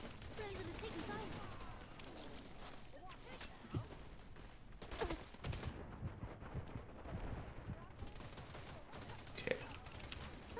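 Gunfire from a team firefight in the video game Wild Assault, with dense bursts and scattered sharp shots running throughout, mixed with game sounds and low voices in the background.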